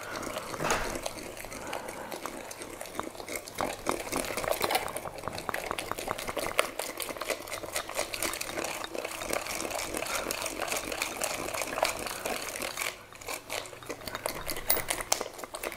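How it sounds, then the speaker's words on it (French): Coconut mixture for a vegan, butter-free, egg-free cake batter is stirred in a bowl, a continuous close scraping and swishing with rhythmic strokes of utensil against the container and a brief dip near the end. "la coco est en train de se mélanger tout doucement"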